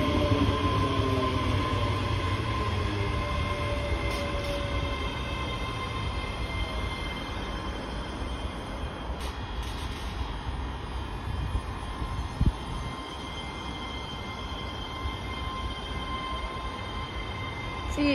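Class 385 electric multiple unit 385016 runs toward Glasgow Central from Gourock, passing Cardonald station with a steady loud rumble and hum for the whole stretch, tonal whine layered over it and a brief clunk partway through.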